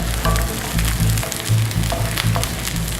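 Salmon skin sizzles and crisps in a hot pan for a maple and tamari glazed salmon dish, a steady close frying hiss with crackling bursts and a low hum underneath.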